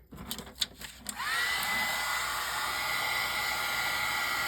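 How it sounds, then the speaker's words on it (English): A heat gun blows steadily while heating embossing powder on vellum, a loud continuous hot-air roar with a faint whine that starts after about a second of light handling noises and holds to the end. "We're going to hit this with the heat gun."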